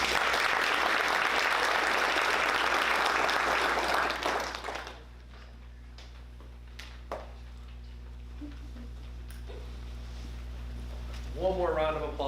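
An audience at a school board meeting gives a round of applause for students, loud and sustained for about five seconds before cutting away to a quiet room with faint shuffles and a voice speaking near the end.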